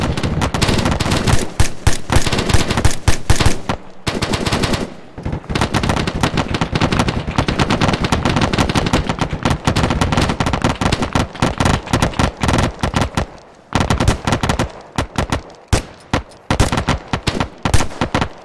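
Sustained rapid machine gun fire in ArmA 3 rattles on loud and close, long dense bursts broken by a few short pauses, with no voices over it.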